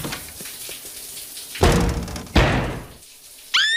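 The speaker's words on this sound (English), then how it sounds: "Knock, knock. Anyone in the bathroom?" Knocking on a bathroom door in an animated cartoon: two heavy, booming thumps close up over a soft room background, followed by a brief high squeak.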